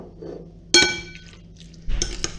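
Chicken fritter mixture with egg and mayonnaise gets stirred in a bowl, heard as a sharp clink of a utensil against the bowl, then quieter scraping and rattling.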